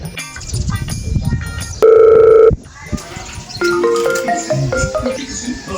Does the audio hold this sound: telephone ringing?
yes